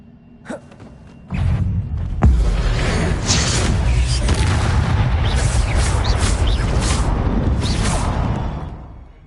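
Statues bursting apart in a PS4 video game, heard as a sustained roar of crumbling, booming debris after a short gasp-like burst and a sharp crack, loud and dense, fading near the end.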